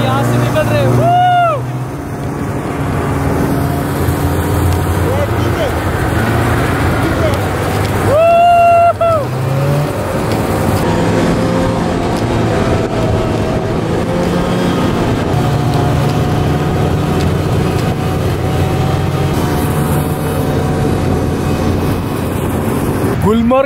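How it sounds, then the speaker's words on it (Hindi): Steady droning snowmobile engine carrying riders across snow in Gulmarg, Kashmir, a loud continuous motor rumble with wind noise running throughout while people talk over it. "स्नो मोबाइल स्नो बाइक है यहाँ से निकल रहे हैं"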